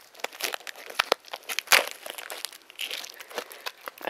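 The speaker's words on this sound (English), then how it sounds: "so just removing the plastic here." Plastic shrink wrap crinkling and tearing as it is pulled off a K-pop mini album, a close, busy run of crackles and sharp rips with one louder snap midway.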